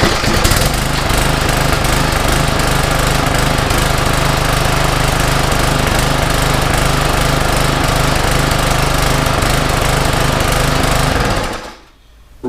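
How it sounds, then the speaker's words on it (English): Troy-Bilt TB554 edger, freshly carb-cleaned and tuned, starts up within the first second and runs at a loud, steady, rattling engine drone close by for about eleven seconds before cutting off abruptly. "We're working on the Troy-Bilt TB554 edger."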